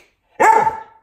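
A dog gives a single loud, close bark on a spoken command, with no talking during the bark.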